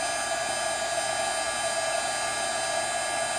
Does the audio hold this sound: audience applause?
no